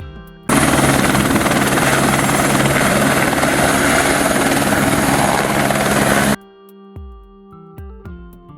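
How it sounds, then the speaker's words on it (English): A seaplane's engine drones loud and steady for about six seconds, a dense continuous propeller roar that stops suddenly, followed by soft musical notes. "Seaplane."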